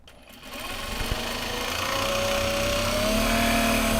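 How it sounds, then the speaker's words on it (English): A sewing machine stitches Japanese fabric for a gyoza bag, its motor humming steadily and close, growing slightly louder as it runs without pause. "we're gonna actually sew it from this direction because then I can see the selvage"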